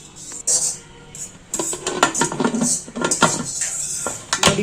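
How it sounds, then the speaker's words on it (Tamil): A metal lid is set onto a pressure cooker of dal and turnip, with a run of close clanks, scrapes and taps of metal on metal in irregular bursts. "மூடி போட்டு மூடியாச்சு"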